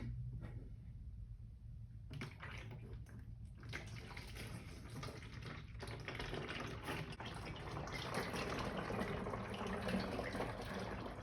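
Motor oil pours steadily through a Liqui Moly transfer funnel, a continuous close liquid rush and gurgle lasting the whole stretch with no talking.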